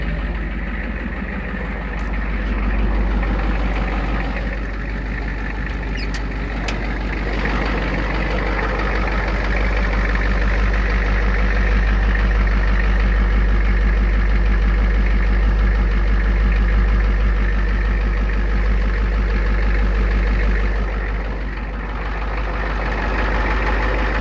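A lifted pickup truck's engine idles in Kalispell, a loud, steady low rumble that holds for a long stretch with a slight rise in the middle and no talking.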